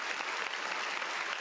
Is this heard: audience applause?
yes